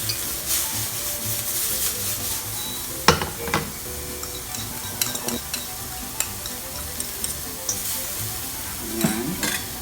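Garlic sautés in reused oil for chicken in oyster sauce, a soft continuous sizzle with scattered clacks and scrapes from stirring, fairly quiet and close, no voices.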